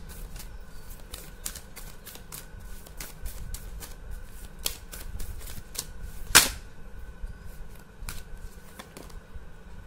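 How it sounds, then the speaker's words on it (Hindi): Tarot cards are shuffled by hand in a quick series of crisp, papery flicks and slides at close range, with one louder riffle burst near the end and no talking. "यहाँ पर है मैं एक और बार शफल करूँगी।"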